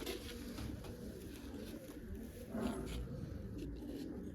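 Pigeons cooing softly at a distance in a quiet, faint outdoor setting, low repeated coos over a light background hum.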